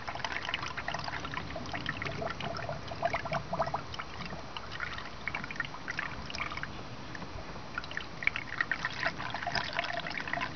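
Toyota SLLC coolant is poured slowly through a funnel into a Prius inverter reservoir, a steady close trickle and gurgle of liquid running throughout without talk.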